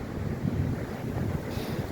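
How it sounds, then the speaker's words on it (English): Steady wind buffets the microphone with a low, rumbling roar on a backpacking trail in Talladega National Forest, fairly faint and continuous with no voices. "It's really kind of windy today"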